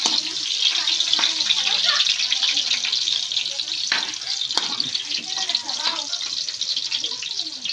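Garlic and onions sizzle steadily in a pan while pancit is being made, a close, continuous frying crackle with scattered clinks of a utensil and a voice talking over it.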